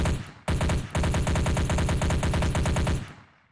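Rapid automatic gunfire from a Unity first-person shooter game, one short opening burst and then a long sustained stream of shots that ends with a fading tail, loud and with no talking.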